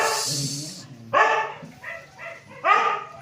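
A dog barks in several short bursts, loud and close, with a brief rough noise before the first bark.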